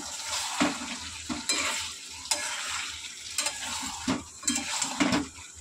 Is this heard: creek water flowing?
no